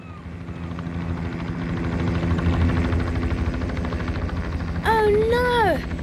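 A helicopter's rotor drones steadily with a low chopping rumble throughout, and a voice speaks briefly near the end.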